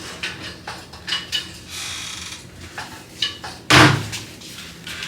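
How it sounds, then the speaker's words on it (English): A sliding barn door to a hotel bathroom at Disney's Animal Kingdom Lodge rolls along its track amid small knocks and clatters, ending in one loud, close thud as it closes. "This actually is like a barn door that slides to close the bathroom."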